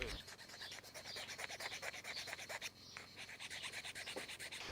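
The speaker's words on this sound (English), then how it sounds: "That is better with sandpaper or a soft file, and adjust it so that it doesn't get lost but goes in smoothly." Sandpaper or a soft file rubs a wooden smoking pipe stem in quick, steady back-and-forth strokes, close and fairly quiet, with no talking.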